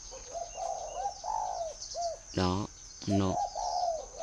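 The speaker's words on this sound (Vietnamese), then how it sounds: "Đó là những tiếng chim cu gáy." A spotted dove coos several times in soft hollow phrases nearby in the northern Vietnamese countryside, with another bird's chirps and a brief spoken word mixed in.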